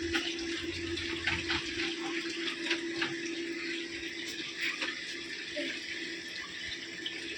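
Water runs steadily from a tap into water balloons being filled, a continuous splashing hiss with a faint tonal ring, close and loud throughout with no talk.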